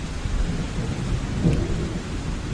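Steady rain with a low thunder rumble swelling near the middle, playing as a sound effect during a spoken medieval fantasy story in which a rider travels through a city at night, with no talk over it.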